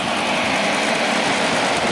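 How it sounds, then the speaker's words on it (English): Water chiller on a 60-watt Chinese laser engraver running, a steady broadband whir of pump and fan, moderately loud and constant throughout, with no speech. "You can hear the chiller kicking in right now."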